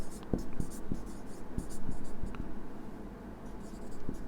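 Handwriting a note: soft pen scratches with light tapping strokes on paper, close and steady over a low room hum with no speech.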